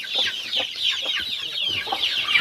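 Chickens cluck close by in a steady stream of short, rapid clucks, several birds overlapping.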